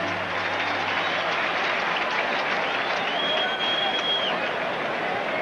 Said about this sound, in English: Nice round of applause for Mickey Hatcher as he steps in.